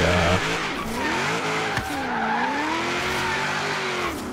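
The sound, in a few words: car drifting with tire squeal in Forza Horizon 3 video game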